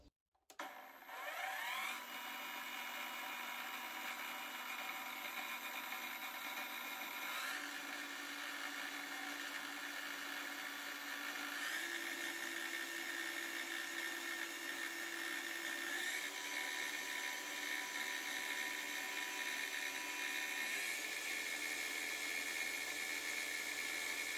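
A Parkside Performance PPTSA 20-Li cordless plunge saw with a brushless motor spins up and runs steadily at high speed, a loud, sustained whine with small shifts in pitch and no talking.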